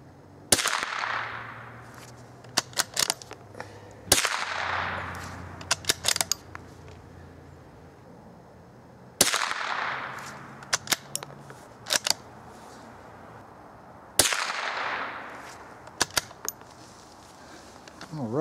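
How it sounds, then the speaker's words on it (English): Four .22 Short rounds fired one at a time from a bolt-action Remington rifle, each a sharp crack with a decaying tail, spaced several seconds apart with faint clicks and handling noises between shots. "Those rounds sound a little bit different coming out of this rifle, as you've probably noticed."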